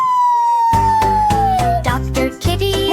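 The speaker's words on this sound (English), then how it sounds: "Just siren sound." A single rising-and-falling siren tone sounds alone at first, then continues under a bouncy, rhythmic musical backing of a children's song.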